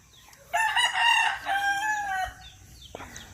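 A rooster crows loudly and close by, a long drawn-out call, with softer clucking from chickens around it.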